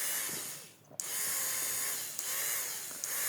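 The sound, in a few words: high-torque DC motor running as a drill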